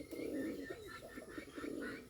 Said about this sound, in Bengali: প্রায় আধা ঘন্টা ধরে এটা ডাকতেছে